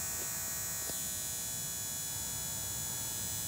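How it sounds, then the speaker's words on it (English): An old barn light with a faulty electric eye gives off a loud, steady electrical buzz, a harsh drone rich in overtones that holds unchanged throughout with no voices. "it's making this really loud buzzing noise, which can't be good"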